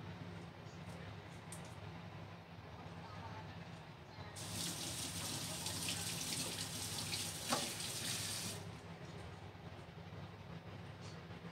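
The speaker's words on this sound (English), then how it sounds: "We will wash all the ingredients." Tap water runs steadily into a sink while fish, ginger, garlic and spring onions are washed, a bright hissing gush starting partway in and stopping after about four seconds over a constant low background rumble.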